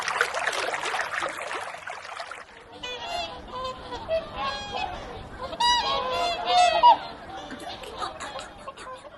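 A noisy rush gives way to a flock of honking swans, overlapping calls rising and falling nearby in an excited jumble.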